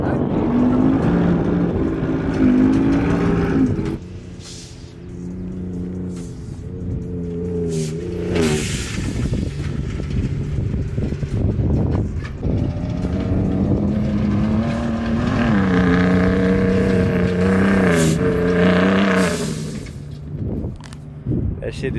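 A modified Ford Raptor truck revs loudly on the sand at the Oceano Dunes, its engine note rising and falling in sustained bursts across the run, with speech-like voices also present in the mix.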